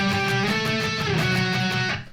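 Muted electric guitar octave riff from the chorus of a song, played alone as a steady, distorted, sustained two-string line with rhythmic picking, close and loud throughout.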